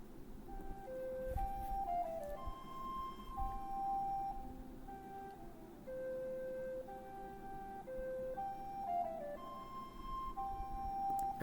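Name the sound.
recorder soundfont playback in MuseScore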